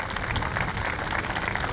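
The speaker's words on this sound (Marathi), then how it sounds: "त्याला टाळ्या वाजवून सर्वांनी त्याचं अभिनंदन करावं." Audience applause for Rohit at an inauguration evening assembly, a dense, steady wash of many hands clapping that continues evenly throughout without any voices.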